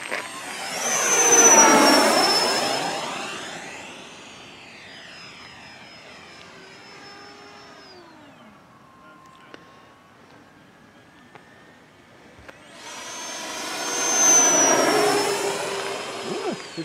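An RC model jet aircraft in flight makes a loud turbine whine that rises and falls as it passes close, drifts farther off and quieter, then roars past again, with faint outdoor chatter in between.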